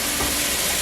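Rice being stirred with turmeric powder in a hot pan, a steady close scraping and sizzling texture with no talk.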